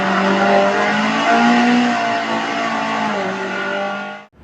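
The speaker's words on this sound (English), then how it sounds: "a very similar spectacular slide round Old Hall Corner in the wet at Oulton Park" A Mazda MX5 race car slides around Old Hall Corner on a wet Oulton Park track during a trackday. The engine note rises and falls loudly and close, with wavering tones as the car drifts, then fades out abruptly.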